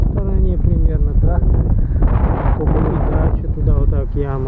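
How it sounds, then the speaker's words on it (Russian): Strong wind gusts across an open quarry lake during ice or shore fishing, buffeting the microphone with a loud, continuous rumbling roar while people talk nearby. "Ветер прям дует такой неплохой прям."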